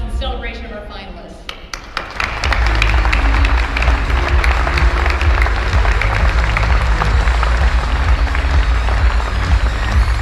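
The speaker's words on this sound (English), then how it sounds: "join us in a round of applause in celebration of our finalists" After a moment of speech, an audience at a Chamber of Commerce business awards event breaks into loud, sustained applause for the finalists, with a low booming underlay and scattered cheers.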